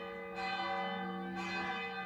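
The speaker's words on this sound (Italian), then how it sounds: "sono uscita dalla chiesa e le campane hanno iniziato a suonare" Church bells ring in Arezzo, a steady harmonic peal with two louder strikes swelling in over sustained ringing, close and clear with no talk.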